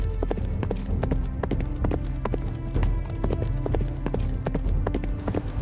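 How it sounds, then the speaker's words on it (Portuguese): Hooves pound in a quick, steady galloping rhythm, close and clear, with sharp repeated clip-clop beats over a low background rumble. "Foi quando eu estava galopando à procura de ajuda"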